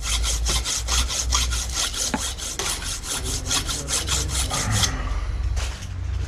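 Steady back-and-forth rasping strokes of a file on a metal burr of a bicycle hub, close and rhythmic, stopping near the end.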